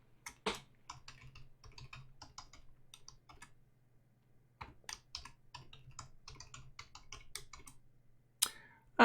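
Keystrokes on a computer keyboard entering a password, a steady run of close, crisp clicks in uneven bursts with a brief pause midway and a louder clack near the end, no voices.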